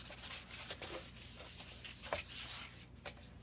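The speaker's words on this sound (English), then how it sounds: "do a very light scuff sand with 400 grit sandpaper" A clipboard gets a light scuff sanding with 400 grit sandpaper, heard as soft, close rubbing strokes in an uneven back-and-forth rhythm, faint and without talk.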